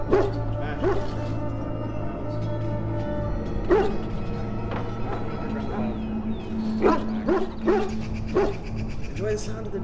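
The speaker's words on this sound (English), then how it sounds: "enjoy the sound of the music, dogs barking, and all that jazz" In-game ambience from Dragon Age: Origins with dogs barking and yipping in sharp intermittent bursts over a steady musical drone and layered background texture.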